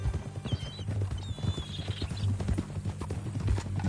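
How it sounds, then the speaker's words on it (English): Horse hooves clip-clop at a steady walking rhythm, fairly close, over a low continuous hum, in the video game Red Dead Redemption 2. "That a new horse?"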